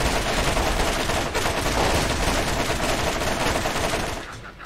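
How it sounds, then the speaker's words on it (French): Dense automatic gunfire from the Borderlands video game, a loud continuous rattling burst of shots with no pauses that fades slightly at the end. "je lag tellement, je tire, ça touche même pas les ennemis"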